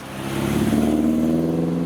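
Car engine rising as it approaches and passes on the road: a mid-pitched hum that swells and holds steady and fairly loud for a second or so, with no talking.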